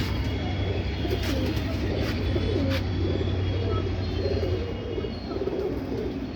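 Giribaz pigeons coo in a steady, overlapping low chorus that runs through the whole stretch, close and fairly loud over a constant low hum.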